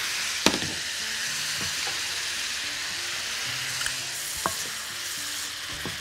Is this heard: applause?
no